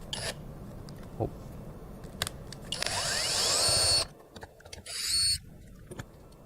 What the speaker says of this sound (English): So just kindly remove the screws.